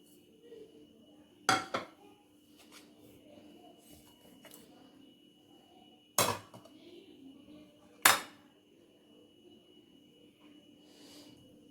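Ingredients for a chicken white pulao marinade (tomato, yogurt, spices, salt, ground fennel and coriander) are mixed in a dish, with three sharp utensil clanks against the bowl spaced apart over a quiet background.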